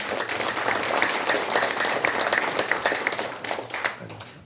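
Applause at a Korean commemorative launch ceremony, many hands clapping in a steady burst that fades out at the end.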